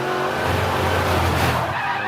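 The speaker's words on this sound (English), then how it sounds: "just got on the power too hard and had it swap ends" GT race car spinning out under power during qualifying at Road America, Fanatec GT World Challenge America: a steady engine roar with sustained tire squeal and skidding, close and continuous throughout.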